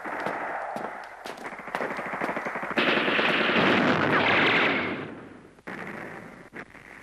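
Dense machine-gun bursts and rifle fire crackle in a battle scene of the 1981 Chinese war film Liberation of Shijiazhuang, rising to a sustained roar before thinning to a few scattered shots.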